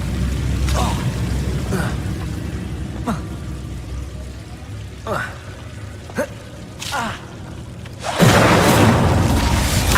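The Incendio fire spell is cast repeatedly in Hogwarts Legacy. Several short whooshing flares are spaced a second or two apart, then a loud, sustained fiery roar bursts out near the end.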